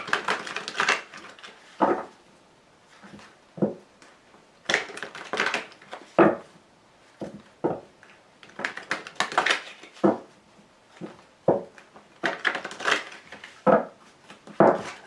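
A deck of tarot cards being shuffled and cut, giving repeated bursts of riffling and slapping card noise separated by short quiet gaps, close and fairly loud with no talking.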